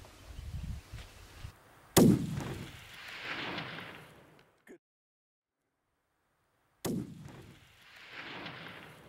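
A hunting rifle fires one loud, sharp shot, then a second blast follows after a stretch of near silence, each trailing off into a broad rumbling echo outdoors.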